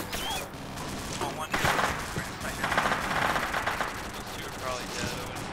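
Dense, continuous gunfire from a military combat video game, with bursts of automatic fire and heavy reports running steadily throughout, loud and close, while voices talk over it.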